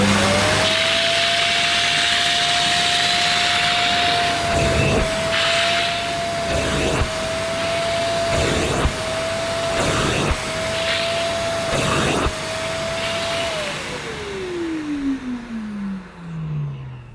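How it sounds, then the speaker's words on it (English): A Thomas Aqua Plus Pet and Family wet vacuum cleaner runs with a steady loud whine, interrupted by several rhythmic suction bursts, then winds down with a falling pitch at the end. "how far up the Thomas Aqua Plus Pet and Family cleaner can reach with the machine safely at the bottom of the stairs"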